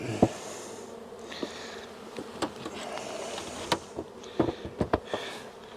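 Honeybees buzz around an open hive during an inspection, a continuous close drone broken by the louder whine of individual bees passing near.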